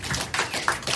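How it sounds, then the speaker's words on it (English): Live audience at a panel recording applauding: a brief, dense patter of many hands clapping, steady and moderately loud. "clap it up one more time for the panelists"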